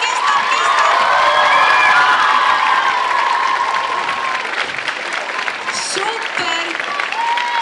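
Students at a school talent show award ceremony keep up strong clapping and scattered cheers that gradually thin out, with a few voices and shouts poking through toward the end.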